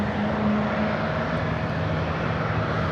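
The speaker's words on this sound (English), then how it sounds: "coming in from San Jose on the A320neo" An Airbus A320neo airliner arriving at Los Angeles International Airport from San Jose gives off a steady, loud broadband jet engine roar with a faint tonal hum, close by and unbroken, with no voices.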